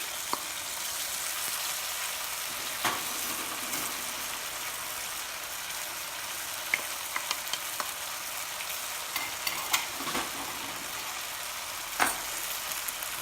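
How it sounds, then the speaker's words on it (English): Chinese cabbage stir-frying in a pan with chicken and mushrooms for moo goo gai pan, giving a steady broadband sizzle with occasional soft clicks from stirring, close and continuous without talk. "Now we will add the Chinese cabbage"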